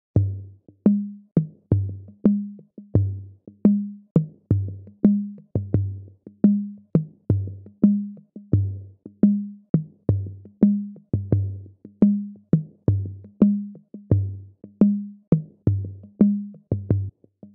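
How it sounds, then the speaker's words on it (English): Electronic music loop produced in Maschine with a beat delay effect: punchy kick and bass hits with sharp clicks, repeating in a steady rhythm with echoing tails, loud and alone. "such as this beat delay here, which sounds something like this."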